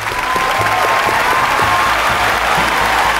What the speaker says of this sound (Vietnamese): Chúng ta hãy dành một tràng pháo tay thật là lớn cổ vũ cho Hoàng Hạnh